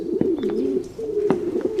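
Pigeons coo in low, soft, rolling calls that repeat steadily nearby, with faint scattered clicks and rustles in the background.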